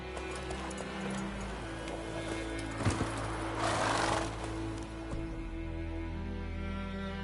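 Roach, the horse in The Witcher 3: Wild Hunt, whinnies and its hooves clop over a steady game background of music and ambience, with a short louder burst of noise in the middle.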